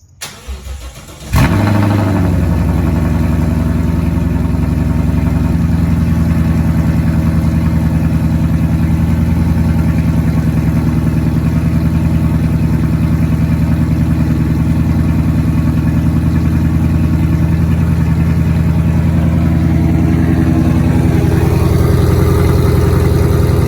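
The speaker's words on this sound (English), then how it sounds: "I got the muffler tips off. I just wanted to hear it sounds like straight pipe" An S550 Ford Mustang with its muffler tips removed, stainless headers and high-flow cats fires up with a sharp crank and catch. It then settles into a loud, steady, deep rumbling idle that holds close and unbroken.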